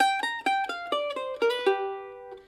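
Bright, close mandolin notes from a tune come in quick alternate-picked succession, a short descending lick of about eight plucks ending on a ringing held note.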